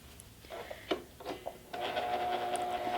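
A sewing machine running briefly in reverse over fabric with the presser foot down, with a few soft mechanical clicks and then a steady close whirring hum that continues to the end.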